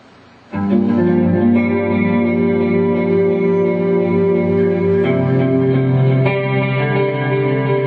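Loud, sustained guitar chords swell with a shimmering chorus and spacious reverb, ringing close and steady with occasional chord changes and no voices.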